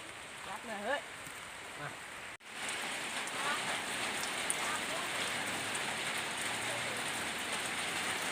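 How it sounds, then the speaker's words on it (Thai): Steady rain patters on a surface while a small field hut is being roofed, a dense hiss that continues after a brief cut, with faint sounds early on. "ฝนตกครับเพื่อน"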